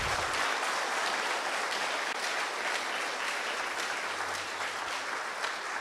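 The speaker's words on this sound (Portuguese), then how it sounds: "Vamos aplaudir o nosso Deus bem forte" A congregation at a church celebration service claps together in a loud, sustained burst of applause that fills the room steadily from start to finish.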